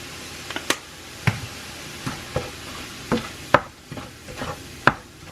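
Ground meat browning in avocado oil in a pan, a steady soft sizzle under scattered sharp scrapes and stirring knocks of a utensil, close and moderately loud, with no talking.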